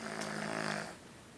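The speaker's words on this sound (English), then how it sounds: "you believe a small dog can snore so incredibly loud?" A single loud, rasping snore from a small dog, close up, lasting under a second before fading to quiet breathing.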